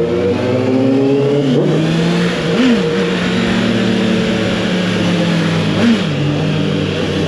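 A stock 2023 Honda CBR 650R motorcycle engine runs loud and close, holding a steady roar with a few brief revs rising and falling, and no talking.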